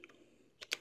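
A few keystrokes typing a captcha on a computer keyboard, faint soft taps followed by two sharper, louder clicks close by, with no talking.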